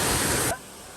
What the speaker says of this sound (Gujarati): ઝરણું. એનો અવાજ જો તમને સંભળાતો હશે જોરદારનો,